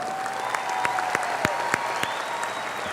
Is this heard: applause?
yes